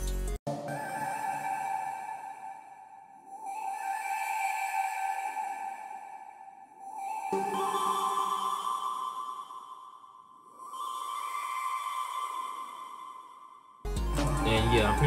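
A synth flute lead patch from a retro texture bank plays a melodic line in sustained, breathy phrases that swell and fade, several notes rising and falling over a steady tone before a brief burst of other sound at the end.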